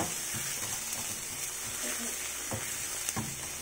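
Tomatoes softening in a pan give a steady, moderate sizzle with occasional stirring scrapes, while a person talks quietly over it.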